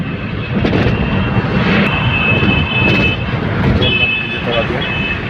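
A train crossing an overhead railway bridge makes a loud, continuous roar and rumble with a faint metallic whine, while a person talks over it.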